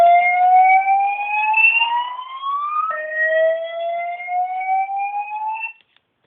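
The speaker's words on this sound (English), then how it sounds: "That, for some reason, was a real fire alarm." A real fire alarm going off indoors, a loud electronic siren whose pitch sweeps steadily upward, drops, then rises again before cutting out abruptly at the end.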